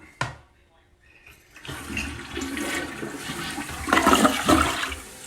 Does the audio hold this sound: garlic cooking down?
no